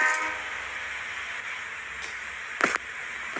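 A train in a Roblox spider-train level sounds as a sustained, fairly loud rumble with a brief sharp burst like a horn or whistle near the end, with no talk over it.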